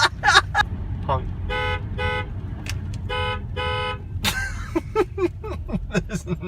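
A car horn sounds in a series of short, repeated honks of steady pitch, close and loud over road noise, followed by a burst of clattering and rustling sounds.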